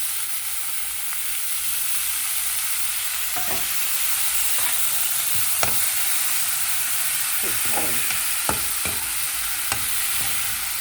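Sweet potato leaves sautéing in a pan, a steady sizzle with occasional scrapes and taps of a stirring spoon throughout, alone with no talk.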